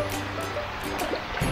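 Waterfall at a luxury beach resort in Okinawa, a steady broadband rush of falling water, close and continuous with a faint splash near the end, no voices.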